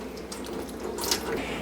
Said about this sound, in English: I like to fold in half and then just give it a little wring